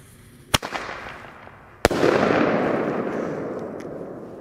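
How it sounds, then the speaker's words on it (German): A flashbang single-shot firework tube fires outdoors with a sharp crack, then a second louder bang bursts into a long rushing crackle and hiss that slowly fades. "Ich habe noch einen Flashbang vergessen."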